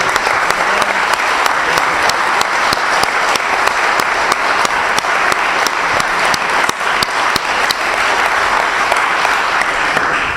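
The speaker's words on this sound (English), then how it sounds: "let's give a hand to both Sammy and to James" Sustained, loud applause from a chapel audience after a debate, dense clapping without a break for about ten seconds.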